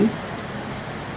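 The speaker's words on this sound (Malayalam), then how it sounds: "പിന്നെ നല്ല മഴ" Heavy rain falls in a steady, dense broadband patter, close and even throughout a very short moment with no voices.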